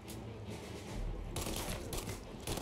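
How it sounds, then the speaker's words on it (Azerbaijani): Bursts of automatic gunfire from a Mafia Definitive Edition firefight, dense rattling volleys that keep going and stay loud and close throughout, with no talking over them. "Pulimiyot gətiriblər bunlar, nə gətiriblər"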